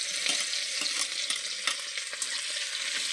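Dried chilies and crushed garlic sizzle in hot oil with popped mustard seeds, a steady, close frying crackle with scattered sharper spits and no talking.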